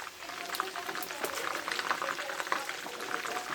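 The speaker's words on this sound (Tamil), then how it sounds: "இங்கே பாருங்கள் எப்படி கொதிச்சிக்கிட்டு இருக்குன்னு பாருங்கள்." Mutton curry for biryani bubbling at a rolling boil in a pot, a continuous close burble with frequent popping bursts and no talk.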